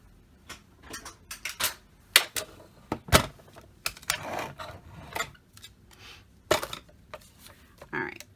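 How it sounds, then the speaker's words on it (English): A paper dashboard for a travelers notebook is trimmed down to a standard Midori size of 8 1/4 inches, making a series of crisp, irregular snips and clicks, close and moderately loud, with a voice speaking in places. "I'm going to cut this down for you real quick just so you can see."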